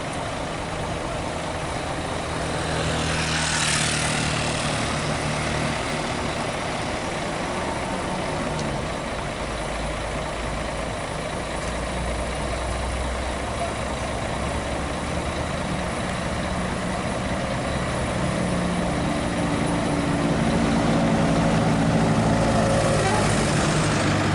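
A bus engine idles steadily at Bareh Solok bus terminal, Indonesia, with a low rumble throughout, with faint voices and background activity mixed in.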